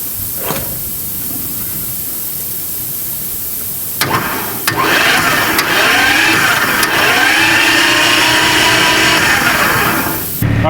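Hercules diesel power unit, bought at auction as scrap, sits quietly hissing before it catches and settles into a loud, steady running roar with a few sharp knocks, continuing alone for the rest of the clip.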